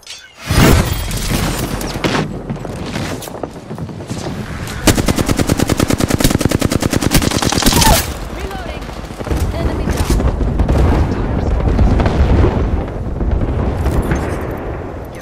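Rapid automatic gunfire in the Apex Legends video game, with dense bursts and a sustained stretch of fast repeating shots, loud and close, joined by other weapon fire and game effects throughout.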